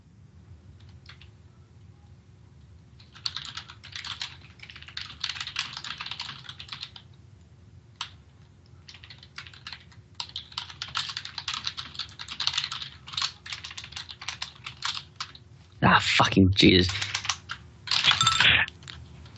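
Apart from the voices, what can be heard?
typing on a computer keyboard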